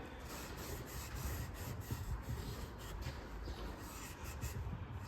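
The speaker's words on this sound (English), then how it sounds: "with the cloth with some brake cleaner and just clean up this surface" A cloth wet with brake cleaner is wiped over a metal engine surface on a VT Commodore, giving a continuous soft rubbing hiss with a quick, even back-and-forth rhythm, close up and fairly quiet.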